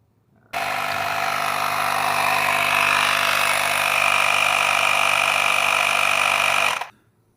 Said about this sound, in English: The air compressor.